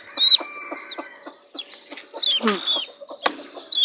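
Chickens cluck and chirp close by in short, scattered bursts, several birds calling over one another with brief pauses between.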